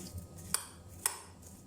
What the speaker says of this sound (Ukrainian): Сюди ж у миску додаємо вершкове масло кімнатної температури і все перемішуємо з яблучками